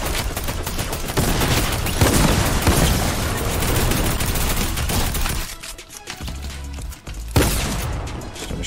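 Rockets and grenades explode amid constant rapid gunfire in Fortnite's Halo mode, loud and dense, with a brief lull around the middle before another heavy blast and more shooting.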